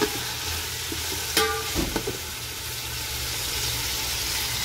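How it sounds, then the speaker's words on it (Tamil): Onions sauté in a pan with a steady sizzle and frying hiss, broken near the middle by a few brief stirring clinks, all close and continuous with no talking. "வெங்காயம் வதங்கிட்டுருக்கு"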